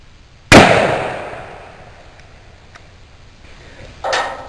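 12 gauge shotgun fired with a cut shell at a can by a pond, one sharp loud blast that trails off, followed a few seconds later by a fainter second burst.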